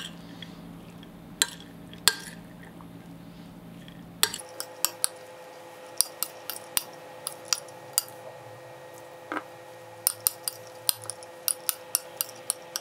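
A spoon stirs saffron through cooked rice in a pot, giving scattered sharp clinks and taps against the metal, some close together and some spaced out, over an otherwise quiet background.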